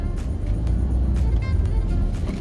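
A Range Rover Sport HSE in four-wheel drive climbing a steep, high track: a steady, loud low engine rumble held throughout at close range, with no voices.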